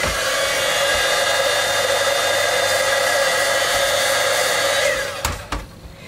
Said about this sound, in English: I have my heat gun over here. I'm just going to give it a quick dry.